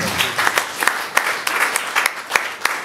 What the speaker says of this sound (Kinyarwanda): Wakomere amashyi menshi Imana.